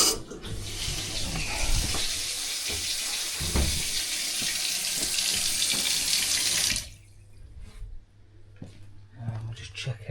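Water gushes from an open tap into newly soldered radiator pipework in a wall, a loud steady hiss that cuts off abruptly partway through, leaving quieter clanks and handling noises.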